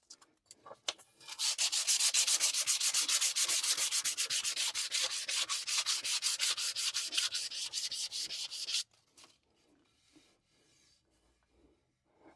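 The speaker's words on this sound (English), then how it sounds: "I've got an 80 grit for rough sanding and 120 for the main sanding" Sandpaper rubs back and forth along a wooden cigar box stick dulcimer neck in fast, steady, close strokes for several seconds, then stops abruptly, leaving faint handling noises.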